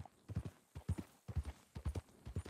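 Horse hooves clip-clop at a walking pace in a Red Dead Redemption 2 western video game, a soft, even rhythm of paired hoofbeats on the ground, close and clear with no other sounds over them.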